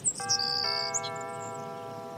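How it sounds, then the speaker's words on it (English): A doorbell rings out a two-tone ding-dong, its bright chime ringing on and fading slowly in a quiet room. "He presses a digit on the doorbell. It chimes."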